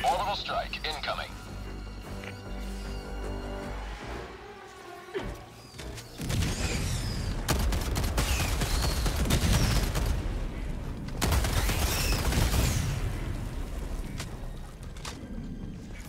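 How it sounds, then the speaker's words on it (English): Orbital strike explosions land in Helldivers 2 during a firestorm civilian evacuation, heavy booming blasts and crashing rumble rolling over several seconds, mixed with gunfire and in-game voices talking over the chaos. "Orbital strike incoming."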